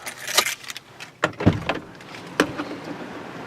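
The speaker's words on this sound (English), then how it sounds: "let me get the keys out here" Car keys jangle in a series of bright metallic clinks and rattles, in short bursts with pauses between them, close by inside a car.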